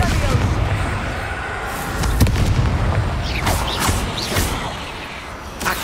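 A booming spell blast erupts in the Hogwarts Legacy video game amid combat, with loud layered explosion thumps, crashes and rumbling impacts across the scene, mixed with game voice sounds.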